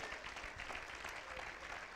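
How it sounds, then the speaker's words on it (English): Congregation clapping hands during a church service, a dense steady patter of many hands continuing throughout at moderate volume. "Let's clap our hands unto Him tonight."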